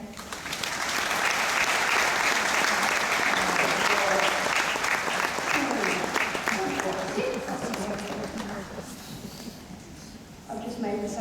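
Crowd applause at a horse show in Flyinge, a sustained burst of clapping that swells, holds and gradually thins, with a voice speaking over it at times.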